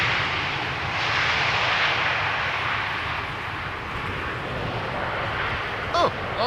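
An easyJet Airbus A320neo at Schiphol airport gives off a continuous broad roar of jet engine noise that swells and eases slightly, steady and fairly loud throughout, with a brief squeak near the end.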